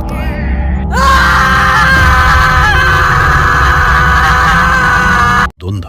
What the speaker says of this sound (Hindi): केतन चीख पड़ता है।